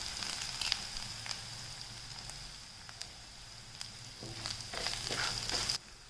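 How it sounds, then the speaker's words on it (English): Spices and curry leaves frying in a pot of oil for dal dhokli, a steady close crackling sizzle with scattered pops and spits, no talking. "Let's fry them for a few minutes till the raw smell is gone"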